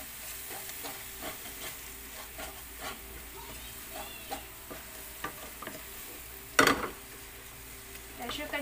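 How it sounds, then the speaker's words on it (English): Masala for aloo gobi sautéing in a pan, with a soft steady sizzle under repeated scraping and stirring taps, one louder clatter near the end. "Mix all together the masala. And saute for just 1 minute."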